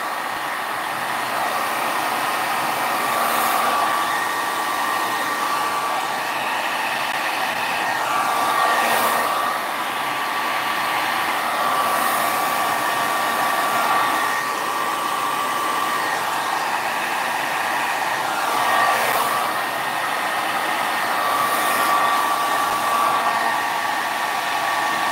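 A heat tool blows hot air steadily over alcohol inks for a small background piece, a constant loud whooshing drone with slight swells as the airflow is moved around, with no talking.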